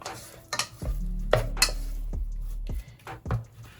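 Small batch of choux pastry dough for chouquettes being mixed in a pan off the heat, with a few heavy thuds and scrapes of a utensil against the pan and soft clatter, close by.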